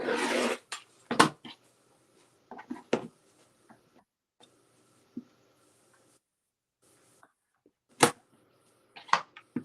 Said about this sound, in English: I need to trim all 4 sides with the trimmer by George